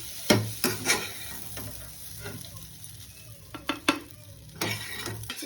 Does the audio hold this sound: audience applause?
no